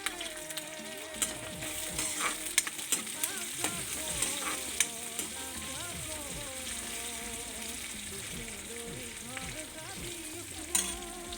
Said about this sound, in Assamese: তাৰপিছত এতিয়া অলপ ৰঙচুৱাকৈ ভাজি ল'ম।